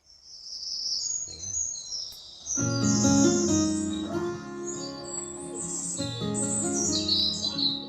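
Birds chirp and tweet in bright overlapping calls while soft music with a melodic line plays underneath, the birdsong carrying clearly over it.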